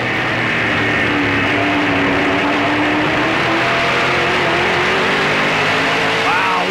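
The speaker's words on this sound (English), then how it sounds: "Listen to that Mopar power down the backstretch." A Mopar-powered Dodge race car roars loud and steady down the backstretch at an oval track race, a sustained engine drone with a rising pitch sweep near the end, with a voice talking over the engine noise.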